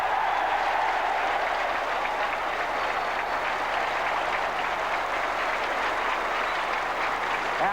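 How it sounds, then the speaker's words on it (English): A Test match cricket crowd in New Zealand applauds Turner, a New Zealand batsman, after his century in the second innings, a dense, loud, sustained wash of clapping with no voices over it. "And the crowd rise to Turner."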